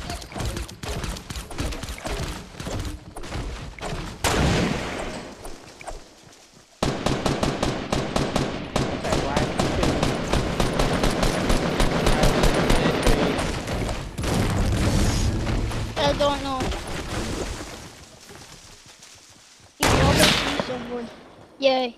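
Rapid, dense gunfire from Fortnite fills most of the stretch, with bursts and booms that drop out briefly around a third of the way in, then resume. A sharp final burst follows near the close.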